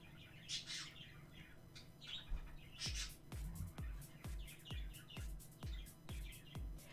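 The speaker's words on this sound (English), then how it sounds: "My birds are so happy right now." Pet birds chirp and squawk indoors with bright, repeated calls, answered by a row of sharp, evenly spaced taps or clicks nearby, all fairly faint.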